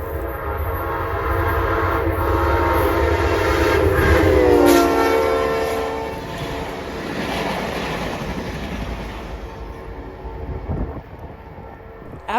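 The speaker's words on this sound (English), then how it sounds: "Here's Amtrak 75." An Amtrak passenger train led by a P42 locomotive roars past close by in North Carolina, its horn sounding partway through as the heavy rumble swells and then slowly fades.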